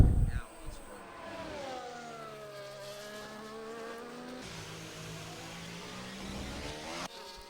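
A McLaren race car engine heard onboard in a racing video game at Singapore, a steady droning whine that rises and shifts pitch through gear changes, with a brief burst at the start and a commentator talking over it.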